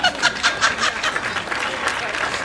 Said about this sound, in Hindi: एक बार बुजुर्गों के सम्मान में दोनों हाथ ऊपर उठाकर तालियों की गड़गड़ाहट।